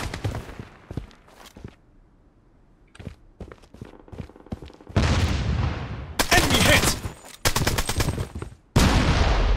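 Gunfire in the shooter game Project Bloodstrike: scattered single shots and short bursts at first, then dense, loud sustained automatic fire in heavy blasts over the second half, with footsteps between volleys.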